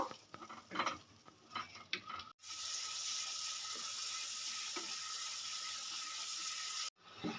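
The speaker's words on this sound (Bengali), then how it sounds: "যতক্ষণ না মশলা থেকে তেল ছাড়বে ততক্ষণ আমি কষতে থাকবো মশলা দিয়ে দিলাম এবার আমি ভালো করে কষিয়ে নেব" Spice paste (masala) frying in oil for a papad curry, starting with scattered stirring clatter, then a loud, even hiss of frying that holds for several seconds before cutting off abruptly.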